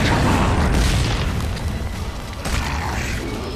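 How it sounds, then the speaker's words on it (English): A grenade explosion in Gears of War 2 on a battlefield, a loud, sustained rumbling blast that fills the clip with dense low roar and no voices. "Toss a grenade into the mix to get an unlucky grub."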